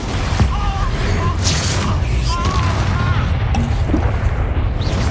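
Repeated Expulso explosion spells in Hogwarts Legacy, booming blasts and crashes layered densely throughout, with shouted spell incantations over the top.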